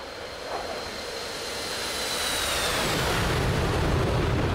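Steady jet engine roar from an F/A-18C in flight within the DCS World combat flight simulator, a continuous broadband rush with a faint high whine that swells slightly louder toward the end, no voices.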